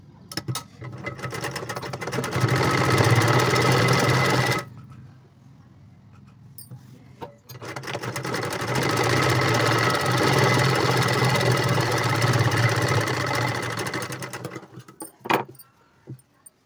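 Domestic sewing machine stitching a seam on blouse cloth, two long continuous runs of whirring motor and needle chatter separated by a quiet pause with handling clicks, close and steady.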